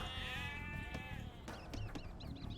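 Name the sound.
sheep bleating in video game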